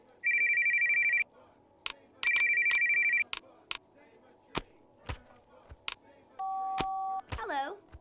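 A phone ringtone in a library sounds as repeated electronic trilling bursts of about a second each, with another tone sequence near the end, set among clicks and knocks while people talk.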